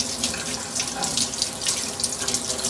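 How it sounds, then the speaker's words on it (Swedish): Tap water runs steadily into a sink while a paintbrush is rinsed under the stream, producing a continuous close splashing hiss with no voices. "När vi ska tvätta en pensel så gäller det att vara sparsam med vattnet också."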